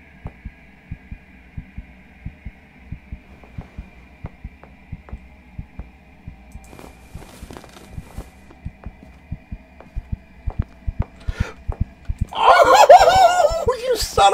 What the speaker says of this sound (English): listen to the heartbeat